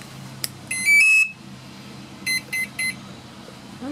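Electric scooter speed controller on a DIY Razor scooter conversion, powering up with a quick series of short electronic beeps: one tone pattern near the start, then three short beeps later, close and clear.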